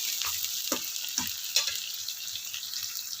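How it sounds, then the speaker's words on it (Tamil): Thinly sliced onions sauté on a low flame for a fish curry, giving a steady soft sizzle with a few sharp stirring clicks from a spoon against the pan, alone without voices. "நீட் நீட்டாக கட் பண்ண வெங்காயம் ரெண்டு வெங்காயம் கட் பண்ணிட்டேன் இது நல்லா பெருக்க வதக்கிக்கலாம் அப்படியே ஒரு சிம்மில் வச்சு நம்ம லோ ஃப்ளேம்லேயே வதங்கட்டும்"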